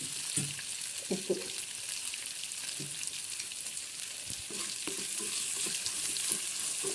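Shallots, garlic, ginger and lentils sauté in a pan for chamanthi, giving a steady soft sizzle with scattered scraping stirs and light clicks throughout.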